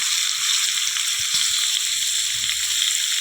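Pumpkin, potato and chickpea vegetables sautéing in a pan, a steady close hiss of frying with faint low stirring bumps underneath, no speech.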